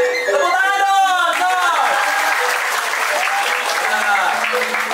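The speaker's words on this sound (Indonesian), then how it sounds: "Tepuk tangan dong." Audience applause at an outdoor camp venue with a stage, clapping steadily for about five seconds while voices talk and call out over it.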